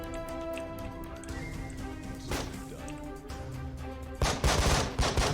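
Gunfire in the Breach and Clear tactical video game: a sharp shot partway through, then a louder cluster of rapid cracks near the end over a steady game soundtrack.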